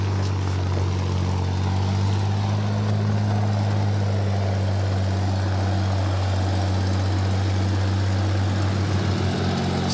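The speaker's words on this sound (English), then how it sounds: "Supercharger blowing." Supercharger blowing on an off-road vehicle stuck in Utah mud, a steady loud low drone with a constant harmonic hum running throughout, no voices.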